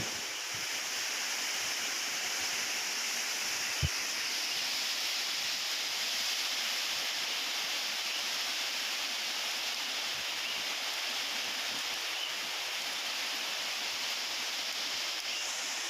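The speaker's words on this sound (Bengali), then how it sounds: "কি রকম ঝড় উঠছে তাহলে দেখেন। পূর্ব দিক থেকে বৃষ্টি আসতেছে।" A heavy storm with rain sweeping in from the east and gusting wind makes a dense, steady hiss of rainfall and rushing air, constant and fairly loud for about sixteen seconds with one brief knock.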